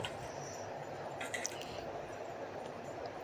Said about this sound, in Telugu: ఇప్పుడు అందులో మనం శుభ్రంగా కడిగి పెట్టుకున్న రొయ్యల్ని వేసుకోవాలన్నమాట